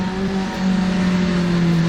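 The Cadenza V8 Polaris race car in Assetto Corsa drones with a steady engine tone that climbs slightly midway, heard from the cockpit at a constant, fairly loud level.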